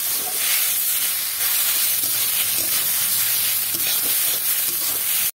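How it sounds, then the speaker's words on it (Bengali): Fried potatoes with cumin powder hiss and sizzle steadily in a pan as they are stirred, a close, continuous bright frying noise with soft scraping and no speech. "জিরের গুঁড়োটা দিয়ে আরেকটু নেড়ে চেড়ে নেব।"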